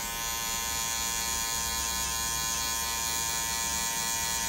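An electric hair clipper runs with a continuous, even buzz at close range during a mid fade haircut, steady from start to finish with no pauses.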